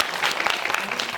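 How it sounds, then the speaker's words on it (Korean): An audience at a film talk event claps briefly, a dense wash of applause filling the whole short moment at an even level. "여러분 박수 좀 부탁드립니다"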